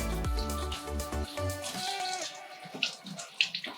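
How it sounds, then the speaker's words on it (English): Tap water runs over fresh blackberries being rinsed during camping meal prep. The splashing and streaming is loudest toward the end, mixed with brief tonal sounds earlier, and no one speaks. "just run the water through. Just rinse them all off."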